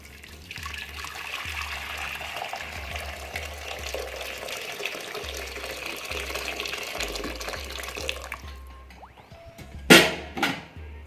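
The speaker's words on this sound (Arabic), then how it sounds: "ندير الزيت وغندير الماء على طيبته" Water pours into a cooking pot that already holds oil, a steady close splashing and trickling for several seconds while preparing asida, a traditional Amazigh porridge. It ends with a couple of louder clanks near the finish.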